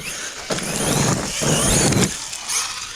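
A Traxxas Sledge RC car drives through a forest on large off-road tires, its electric motor whining up in two or three short, close bursts with gritty rolling noise.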